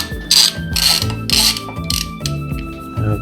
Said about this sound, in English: So you put a 10 mil socket, crack is loose